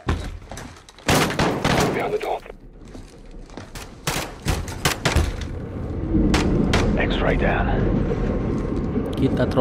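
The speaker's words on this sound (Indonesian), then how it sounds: "Kita terobos dan langsung menembak saja." Gunfire in Call of Duty Modern Warfare during a night-vision raid, sharp irregular shots and short bursts ringing out close over a rumbling game soundscape, with a voice talking partway through.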